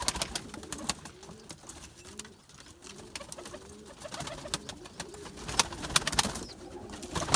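Several pigeons coo softly and repeatedly inside a coop, their low rolling calls overlapping with light rustling and a few sharper flutters, moderately close and without talk.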